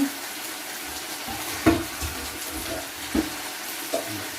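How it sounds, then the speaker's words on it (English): Cooked noodles for a stir fry tipped into a colander, giving a watery splash and rush with a few sharp clunks against the colander, up close and with no talking. "Noodles into the colander, then"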